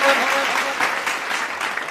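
Loud, dense applause from a village crowd at a political rally fills the clip, steady clapping that tapers slightly toward the end.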